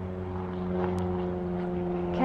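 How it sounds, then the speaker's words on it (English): A small propeller airplane drones overhead as a steady, moderately distant engine hum with a low buzzing tone, heard outdoors without speech. "airplane. That's a tiny one."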